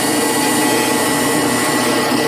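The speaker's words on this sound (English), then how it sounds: "I'm going to drill that hole." A power drill bores a hole into the back post of a wooden corner chair in a woodworking shop, a loud steady whine held alone and close.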